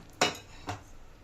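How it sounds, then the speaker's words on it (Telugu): A metal kadai set down on a stovetop while cooking egg manchurian, giving two short clanking knocks in quick succession, close and fairly loud against a quiet kitchen. "ఇప్పుడు స్టవ్ వెలిగించుకొని కడాయి పెట్టాలి."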